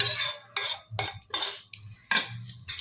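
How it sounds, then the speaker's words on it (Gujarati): A spoon clinks and scrapes against a bowl as chopped vegetables go into soaked uttapam batter, five or six quick metallic taps and knocks in an uneven rhythm, close and clear with no talking. "ચાલો, બેટર થઈ ગયું છે તૈયાર, પલાળ્યું હતું. હવે બધું એમાં શાકભાજી નાખીએ."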